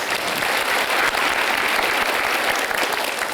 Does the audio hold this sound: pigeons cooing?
no